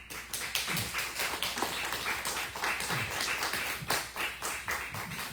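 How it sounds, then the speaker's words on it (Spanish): Church congregation applauding together, a dense, steady patter of many hands clapping at close range with no pauses. "Le damos un aplauso a Dios."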